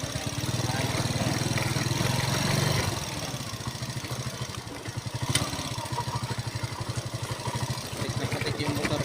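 A mud-caked motorcycle idles close by after heavy rain, its engine chugging in a steady rapid pulse that dips briefly and then settles back to a rhythmic idle.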